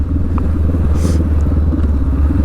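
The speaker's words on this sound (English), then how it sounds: "I upshifted to fifth gear, sixth gear, back down to fifth gear, back down to fourth gear" A motorcycle engine runs loud and close with a steady low rumble, its revs shifting briefly as the rider changes down through the gears.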